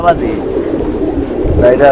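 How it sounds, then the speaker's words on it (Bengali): A female pigeon of the Silver breed coos close by in a loft in Old Dhaka, giving soft, throaty calls at the start and again near the end. "এটা একটা মাদি কবুতর"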